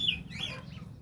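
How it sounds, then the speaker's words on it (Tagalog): A chicken gives a brief, soft cluck or two over a low background hum. "Ayan yung manok."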